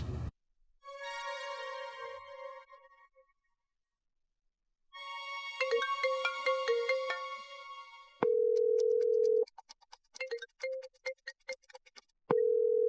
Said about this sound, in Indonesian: Saya coba telepon Pak Al dulu deh.